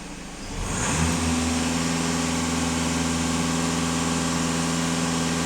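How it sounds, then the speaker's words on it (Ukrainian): A VW Passat B8 2.0 TDI 4x4 diesel engine is held at full throttle after warming up, a loud, steady, sustained high-revving drone with a sharp rise at the start and no voices. "Даю газ в пол."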